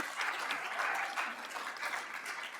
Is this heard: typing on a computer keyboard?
no